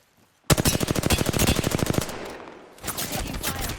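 Rapid automatic gunfire in a shooter video game, a close, loud burst of evenly spaced shots for about a second and a half, followed by scattered further shots and game noise.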